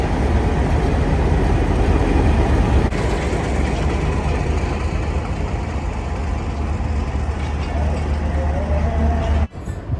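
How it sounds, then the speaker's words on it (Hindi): The Karachi Express passenger train rolls into a station platform in Lahore, a steady heavy rumble and low drone of the locomotive and carriages, loud and continuous with platform bustle around. "सामने ट्रेन आ रही है और ये उसके सामने फुदक फुदक के जा रहे हैं सारे के सारे। यही हमारी ट्रेन है, कराची एक्सप्रेस।"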